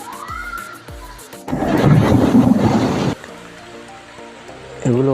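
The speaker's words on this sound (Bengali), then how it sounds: "এখন বৃষ্টি শুরু হয়ে গেছে। দেখুন বৃষ্টি থামার কোনো নামগন্ধ নেই।" Heavy monsoon rain pours down on pigeon coops and wet ducks in a rural yard, swelling into a loud, dense downpour mid-clip before easing back, with a voice speaking over it.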